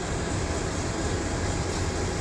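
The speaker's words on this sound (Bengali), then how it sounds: "এটা হলো ট্রেনের ইঞ্জিন।" An Indonesian-built locomotive, engine number 2611, on the Kishoreganj Express rumbles in a loud, steady, broadband drone with no voices, close to the machine.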